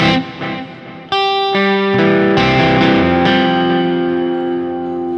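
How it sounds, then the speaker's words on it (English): Distorted electric guitar chords through a Neural DSP Quad Cortex stereo delay ring out and repeat as echoing delays that trail off, with a wide, spacious swirl as the notes fade. "Let's do a simple delay in stereo."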